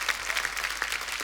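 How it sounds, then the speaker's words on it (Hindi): A studio audience at The Kapil Sharma Show applauds after a performance, a dense, even patter of many hands clapping at moderate volume with no voices over it. "जोरदार तालियां हमारी परफॉर्मेंस के लिए।"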